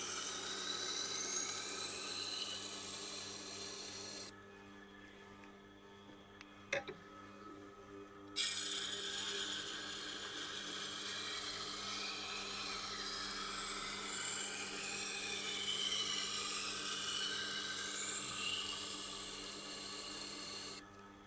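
A Tormek grinder sharpening a Global G-2 chef's knife with a small chip near the tip, a steady close grinding hum and rasp that cuts out briefly in the middle, then resumes with a click.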